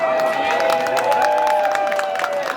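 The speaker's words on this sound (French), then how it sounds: "Applaudissez très fort pour les femmes Bamenjou" An audience at an International Women's Day celebration applauds and cheers for the women of Bamendjou, giving a dense, continuous wash of clapping and shouts with a few voices rising above the crowd throughout.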